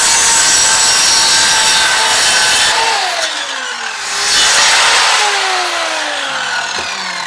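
A power saw trimming wood for recorder stands, loud and close, whining through the cut, dipping as the blade slows, then surging again before winding down.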